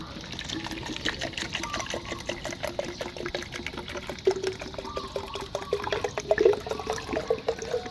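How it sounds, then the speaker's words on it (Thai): Water poured into a small jar of crushed cha-om leaves for a homemade poultry remedy, a steady trickling pour with brief louder splashes, close and fairly quiet, with no talking. "เสร็จแล้วก็ใส่ใน กระปุกน้ำนะครับ ทำการเติมน้ำ"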